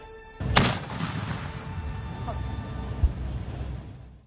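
A 75mm tank cannon fires once with a sharp, heavy blast, then a long rumbling echo and engine noise, with a dull thump a few seconds later.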